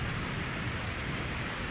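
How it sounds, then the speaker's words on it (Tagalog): Heavy rain pours steadily over Manila Bay, a dense, loud, continuous hiss with no break and no voices. "Ayan, malakas pa rin ang ulan"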